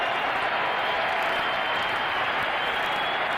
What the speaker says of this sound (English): Crowd who are on the linesmen for their icing calls against the Rangers now give them a big cheer for that one against the Devils